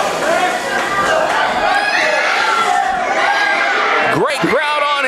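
A wrestling crowd in Greenville, Texas roars and chatters continuously, with scattered whoops and shouts rising out of the loud, close crowd noise, and a few piercing high yells near the end.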